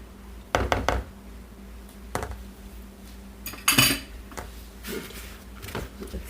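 A spatula working through apple bread batter in a bowl, a handful of close clinks and scrapes against the bowl in irregular bursts, with quiet gaps between them.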